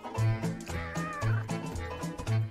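A kitten meows repeatedly, soft high cries at an irregular rhythm over a looping musical background, fairly quiet.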